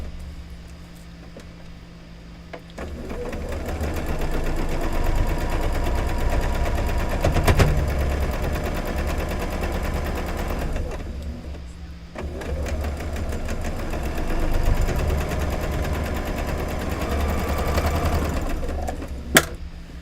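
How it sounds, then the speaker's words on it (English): A sewing machine runs close by, stitching quilt blocks in two long bursts of fast, steady needle chatter over a motor hum, with a short pause between them and a few sharp clicks. "So let's get sewing, and then we'll have one row in no time at all"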